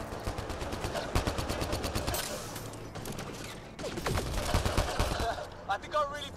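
Rapid bursts of automatic gunfire from a firefight against an enemy in Mass Effect Andromeda, sustained volleys of close, loud shots with brief pauses and mechanical clatter, a voice speaking over the combat.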